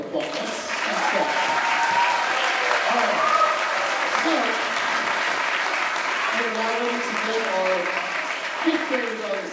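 An audience at a school spring orchestra concert applauds the fourth grade orchestra, steady loud clapping throughout with a faint murmur of voices underneath.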